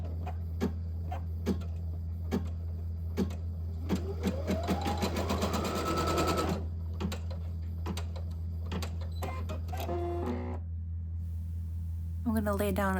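An embroidery machine stitching batting onto hooped mesh stabilizer gives rapid mechanical ticking in bursts over a steady motor hum, with a rising whir midway and brief pauses between runs.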